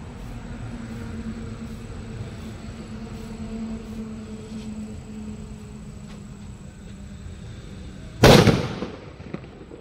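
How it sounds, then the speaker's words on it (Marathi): A single firecracker set off for New Year bursts with one sharp, loud bang near the end, after a stretch of quiet outdoor background hum. "नवीन वर्षाचा पहिला फटाका फोडतोय."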